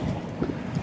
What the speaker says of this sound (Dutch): dus wind, er staat wind